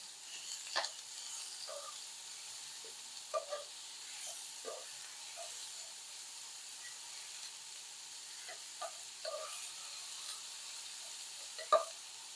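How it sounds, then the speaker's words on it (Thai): Minced pork stir-frying in a pan over high heat for a Thai eggplant dish, a faint steady sizzle broken by scattered clicks and scrapes of a utensil, heard from a little distance. "ใส่หมูลงไปผัดไฟมันแรงไปไหมเนี่ย"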